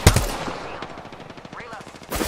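Rapid automatic gunfire in the video game Apex Legends, a dense string of close, loud shots with a sharp burst at the start and another at the end.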